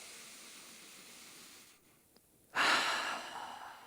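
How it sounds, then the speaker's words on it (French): A deep breath exhaled during a stretching exercise, a single loud, close whoosh of air released after a brief quiet pause, fading gradually, with no talking. "Et on expire, on relâche. Et on lâche spontanément l'air, sans résistance."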